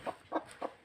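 A hen clucks three times at an even pace, fairly close and clear, with quiet background between the short calls.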